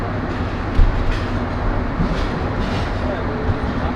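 Paharika Express train pulling out of Chittagong railway station, a steady loud low rumble of rolling railcars with faint rhythmic clatter throughout, close by, with voices faintly underneath.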